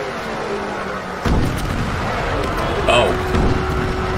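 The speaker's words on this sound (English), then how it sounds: "Airstrikes or bombings? Airstrikes." Airstrike explosions in an ARMA 3 cinematic war series land as deep booms and rumbling impacts under dense battle noise, with one heavy hit arriving suddenly and a steady roar continuing afterward.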